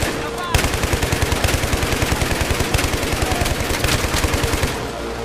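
Sustained automatic machine gun fire from a bipod-mounted weapon in the Battlefield 3 video game, a rapid, steady rhythm of loud, close shots running for about five seconds with dense battle noise behind it.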